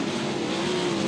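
Sprint cars roar around the South Texas Speedway dirt oval during an ASCS Gulf South race, a loud, sustained engine howl heard from trackside.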